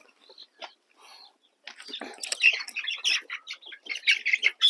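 Pure desi gavran chickens, 45 days old, give brief scattered calls at first, then a dense stretch of overlapping squawks and chirps from a flock close by, with no talk.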